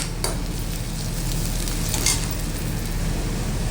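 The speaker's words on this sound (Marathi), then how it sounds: "आता ठेचून घेतलेला लसूण टाकूया" Crushed garlic drops into a pan of frying onions and sizzles loudly and steadily, with a couple of sharp stirring scrapes, close up and without talk.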